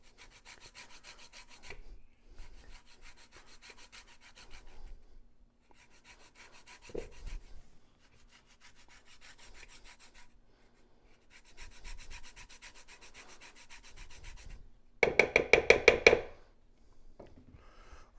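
Lime zest being rubbed across a grater for a steak and chicken burrito, steady rasping strokes in several bursts with short pauses, then a louder brief scraping clatter near the end, no talk.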